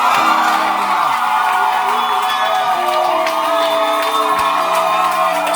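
A church congregation at a special service shouts and cheers with joy, a dense, loud, continuous roar of voices with whoops and cries, and a low chanted or sung line running underneath throughout.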